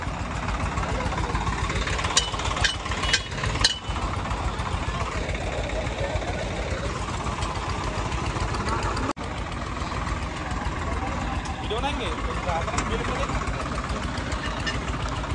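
Two Swaraj 855 tractor engines, 4x4 and 4x2, rumble and idle steadily close by on a road before a tug-of-war, a low continuous chugging with a few sharp knocks and clanks.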